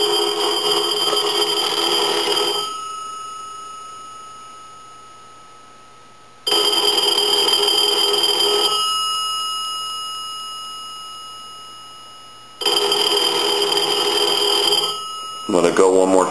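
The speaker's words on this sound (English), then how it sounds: "So we'll go ahead and ring it one more time." An A&E three-slot payphone under repair testing rings in loud electronic bursts, three long rings separated by quiet decaying pauses, with a brief clatter at the end.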